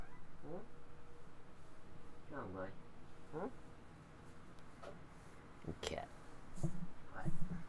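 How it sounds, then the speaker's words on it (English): A mother cat meows several times in Wasteland 3 gameplay, short rising calls scattered through the clip, set against game ambience while a person talks over it. "It's the mama cat. She got six babies."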